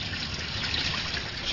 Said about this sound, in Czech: mezi tím můžeme pustit teplou vodu,